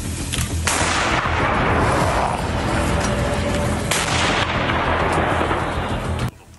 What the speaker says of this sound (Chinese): 居民天天听到交战的声音